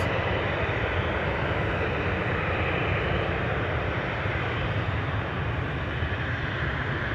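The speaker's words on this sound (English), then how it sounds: "Embraer 190 going to Leeds, KLM flight 1545" A KLM Embraer 190 jet airliner departs Schiphol's Polderbaan, its engines a steady broadband roar holding level and fairly loud throughout, with no talk.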